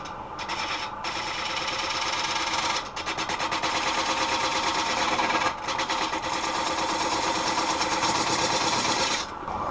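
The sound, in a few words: wood lathe turning black poplar with a spindle gouge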